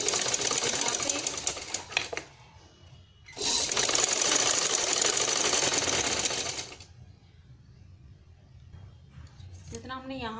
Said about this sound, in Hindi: पूरे में हम सिलाई लगा देंगे यहाँ पे